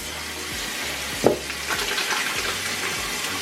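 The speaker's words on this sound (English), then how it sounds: "I'm just gonna wash my hands." Tap water runs steadily during handwashing, a continuous hiss and splash with a brief clatter partway through and no talking.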